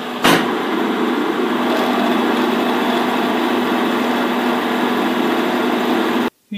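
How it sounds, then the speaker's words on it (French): Machine tool cutting a centering part for a circular table on a Promécam RG 25 press brake rebuild, a steady loud continuous whirring drone with a faint tone running throughout, cutting off abruptly just before the end. "Usinage d'un centreur pour monter dans le plateau circulaire."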